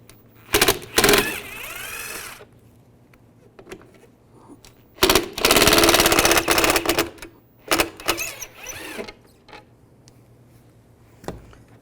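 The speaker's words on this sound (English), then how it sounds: "Use a Phillips head screwdriver, take these two screws out." A Phillips screwdriver backs two screws out of a 2002-2009 Chevrolet Trailblazer tail light, heard as close, loud bursts of ratchety clicking and scraping with short quiet gaps between them.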